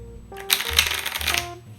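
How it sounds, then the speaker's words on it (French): Two decks of playing cards shuffled together make a quick, close riffle of papery flutters and snaps lasting about a second, followed by a soft tap as they settle. "On mélange les 2 paquets."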